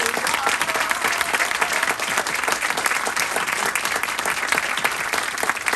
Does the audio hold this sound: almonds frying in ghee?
no